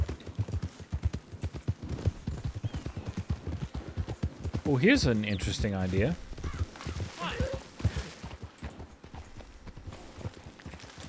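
Horse hooves clip-clop at a steady walk through the town of Valentine in a Red Dead Redemption 2 roleplay, a close, even rhythm continuing under conversation between players.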